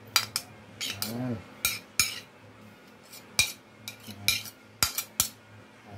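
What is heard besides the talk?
mixing goat kilawin with ginger and spices using a utensil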